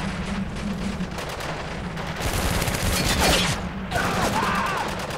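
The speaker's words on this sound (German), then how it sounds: "Wo schießen die denn hier?" Loud, sustained gunfire in Spec Ops: The Line, with rapid overlapping shots and sharp cracks rattling over a heavy rumble, nearby and unbroken.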